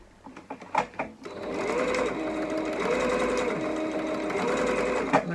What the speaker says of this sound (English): I'm going to kind of back stitch there so that your elastic is secure